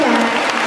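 Brief burst of steady clapping from an audience at a Taipei listeners' gathering, dense and close, with some voices mixed in.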